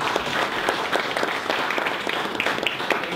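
Audience applause for speaker Tim Busche at a business marketing talk, a dense steady wash of many hands clapping close and continuous through the whole stretch.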